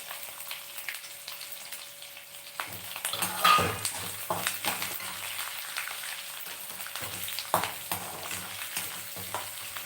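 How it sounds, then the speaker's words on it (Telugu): Curry leaves fry in hot oil alongside grated ginger, giving a close, crackling sizzle with spattering pops and occasional scrapes of a utensil against the pan. "ఇది బాగా వేయిస్తాం"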